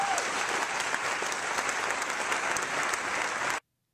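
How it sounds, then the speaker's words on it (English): Loud, dense audience applause at a political speech on concealed carry law, steady and continuous for several seconds before cutting off abruptly. "So he's receiving a loud applause"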